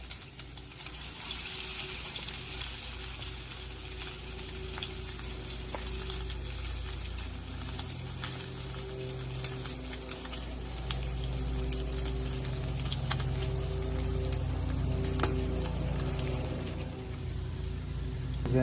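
Salmon croquettes sizzling in a pan of hot oil, a continuous crackling, spattering fry heard up close with occasional pops, steady throughout and building slightly toward the end.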